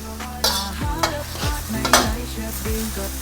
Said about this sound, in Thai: เราก็จะ เอาพริกกระเทียมลงไปผัดนะครับ